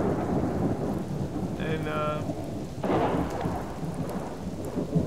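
Steady rain and rolling thunder in the survival video game Subsistence, a dense broadband wash with a louder thunder swell midway and a brief tonal blip, while a voice says a single word.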